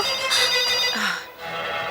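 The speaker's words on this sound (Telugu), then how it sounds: "చూసావా, ఫోన్ కూడా మోగింది." A phone ringtone plays nearby, a loud melodic electronic tune of bright repeating tones with no talking.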